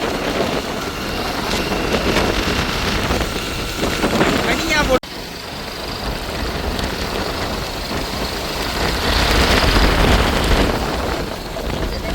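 Strong sea wind during a cyclone on the Jaffna coast roars continuously across the microphone, with a brief dropout midway, then the gusting rush resumes, loud and unbroken.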